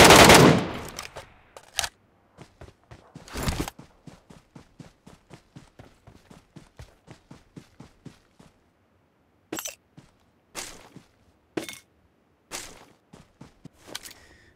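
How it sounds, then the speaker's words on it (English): Gunshots in a game's Metro solo mode crack out in a loud opening blast, then runs of rapid, evenly spaced shots, followed after a pause by scattered sharp single reports, close and without talk. "So I heard some shots in Rosshawk."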